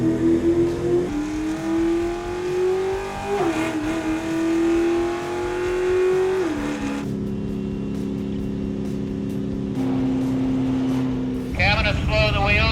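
King of the Hammers race car engine warming up to bring the gear up to temperature, a loud continuous rumbling idle with slow rises and falls in revs and a sharper rev near the end, voices talking over it.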